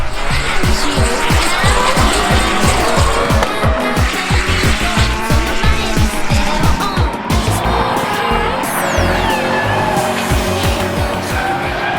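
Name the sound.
drift car engine and tire squeal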